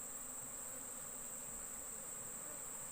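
Honey bees swarming around a hive during a honey harvest, a continuous high, even buzzing drone that stays faint and unbroken throughout, with no talking.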